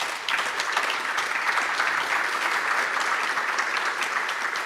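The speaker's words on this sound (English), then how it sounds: "Please give them a round of applause again." An audience gives steady, dense applause that carries on evenly throughout with no talk over it.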